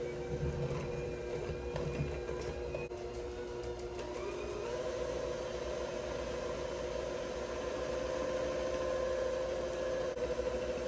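An electric hand mixer whirring steadily through box cake batter, a continuous mid-pitched motor hum with some rattling at the start, moderately close and without talk.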